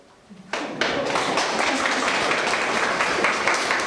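Applause from a crowd at a protest against a school's closure starts suddenly and continues as a dense, steady patter of many hands clapping.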